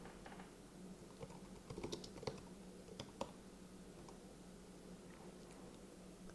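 Typing on a computer keyboard while renaming a sequence in editing software: a quiet run of soft, irregular key clicks, briefly denser in the middle, over low room hum.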